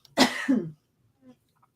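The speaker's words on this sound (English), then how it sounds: "Excuse me, I'm going to cough." One close, forceful cough with a short throaty follow-through, then near silence apart from a faint murmur.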